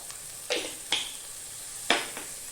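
Spiced potato-and-pea curry base frying in a pan, with a few short scraping stirs over a steady soft sizzle, close and fairly quiet.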